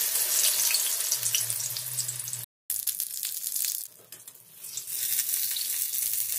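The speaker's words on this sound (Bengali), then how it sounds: "একই রকমভাবে আমি বাকি বেগুনগুলো ভেজে নিচ্ছি।" Eggplant slices fry in hot oil with a soft, steady sizzle, broken by a brief silent gap and a quieter stretch before the crackle rises again; no one speaks.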